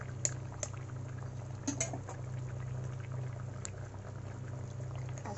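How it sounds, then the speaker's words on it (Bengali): Curry gravy boils steadily in a pan on the stove before eggs go in, a soft continuous bubbling hiss with a few faint pops and clinks, close and quiet with no talk. "আমার তরকারিটা ফুটে এসেছে ঝোলটা, এবার আমি ডিমগুলো দিয়ে দেব"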